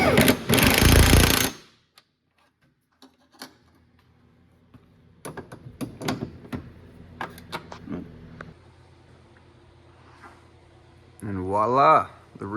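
An impact wrench fastens coilovers onto an EK hatchback, a loud sustained burst at the start followed by scattered clanks and tool knocks, with a short whirring rattle near the end.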